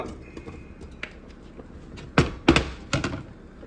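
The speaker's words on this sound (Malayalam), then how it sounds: "എന്നിട്ട് ഈ ചേമ്പ് നമ്മൾ കുക്കറിലോട്ട് ഇടുക" A few solid thunks and knocks as taro chunks drop into a metal pressure cooker, clustered near the end, over quiet room noise.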